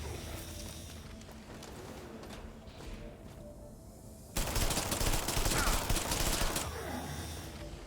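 A Scorpion gun fires in the video game System Shock Remake, delivering a sustained loud burst of rapid shots after a stretch of quieter ambient rumble and footsteps.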